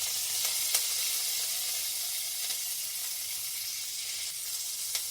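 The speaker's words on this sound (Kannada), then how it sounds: "ಇದನ್ನು ಹುರಿದ್ಬಿಟ್ಟು ಹಾಕೋಣ ಹಸಿಮೆಣಸಿನ್ಕಾಯಿ" Green chillies and curry leaves fry in hot oil for a chutney, giving a soft, steady sizzle and hiss with a few faint crackles and pops. No one speaks.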